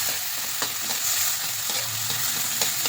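A few tomatoes fry in a pan for a quick breakfast, with a steady broadband sizzle and repeated scraping stirs at irregular intervals, close and continuous with no talk.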